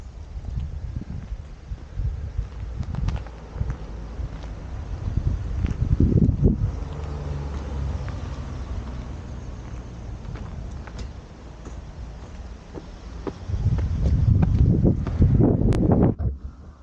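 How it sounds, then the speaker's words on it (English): Wind gusts outdoors beside a rocky tunnel eroded by water, buffeting the microphone in rumbling bursts that swell strongly near the start, middle and end, with no one talking. "It's a bit windy, it's probably sounding horrible."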